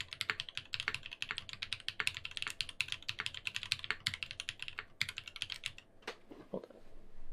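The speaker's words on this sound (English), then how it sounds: "Sounds like a keyboard, for sure." Typing on an Iron180 WKL mechanical keyboard with a brass bottom: quick, uneven runs of close, crisp key clacks and thocks, ending in a few slower, separate presses.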